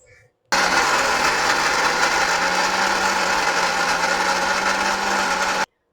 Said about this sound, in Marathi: मिरची आणि लसूण मिक्सरमधून वाटून घेणार आहे.